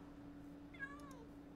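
A single faint cat meow from a video game, a short wavering cry with a falling pitch, heard alone over a low steady background hum, followed by a few soft clicks.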